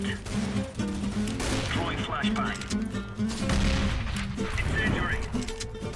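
Gunfire in Counter-Strike: Global Offensive on the Mirage map, a dense stream of rapid shots and booming impacts throughout, loud and continuous, with players talking and shouting over it.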